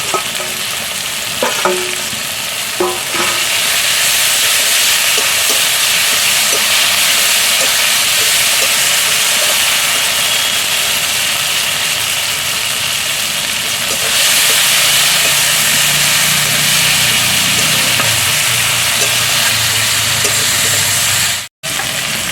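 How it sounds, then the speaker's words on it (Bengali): Ginger paste and ground cumin-coriander paste frying in hot oil for a Bengali-style rohu fish curry, a loud steady sizzle with stirring scrapes and a few sharp pops, continuous for the whole stretch. "এবার দেব আদা বাটা আর জিরে ধনে একসঙ্গে বেটেছি, দিয়ে দেবো।"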